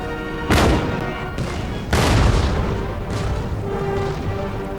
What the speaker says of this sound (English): Keep them batteries firing.